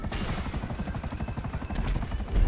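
A damaged helicopter in GTA V drones with a rapid rotor chop that pulses steadily and loudly throughout, with no voices over it.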